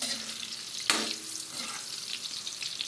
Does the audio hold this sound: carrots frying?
yes